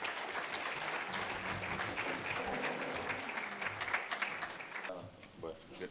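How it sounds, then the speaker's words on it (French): Sustained applause from a lecture audience, dense steady clapping that fills the room, tapering slightly near the end as a voice begins. "je propose qu'on l'applaudisse"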